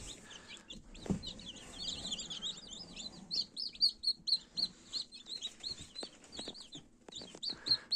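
A cluster of chicks peeping continuously, high and chirpy, close by in a quiet space, with occasional soft thumps.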